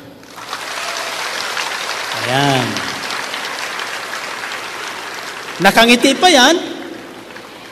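Large congregation at a charismatic healing service applauding on cue, a steady broad wash of clapping running the length of the clip while someone speaks over it through a sound system.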